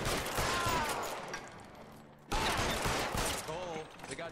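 Gunfire in the 1940s Los Angeles crime game LA Noire, a clattering volley of shots that fades, cuts out briefly, then bursts back loud amid game sounds and faint character voices.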